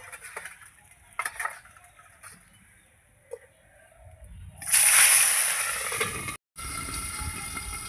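Tengra fish frying in hot oil in a covered pan: a quiet start with a few faint clicks, then a sudden loud burst of hissing, spluttering oil that keeps going close by, broken by one brief gap.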